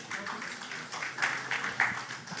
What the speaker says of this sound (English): please put your hands together in a collective round of applause to welcome our entire panel